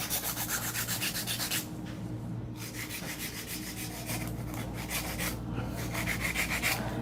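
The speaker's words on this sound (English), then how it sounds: "I'm gonna go through and hand file all these nails" A hand file rasps rapidly back and forth across long acrylic nails being shaped into coffin form, a continuous close scratchy rubbing with brief pauses between strokes.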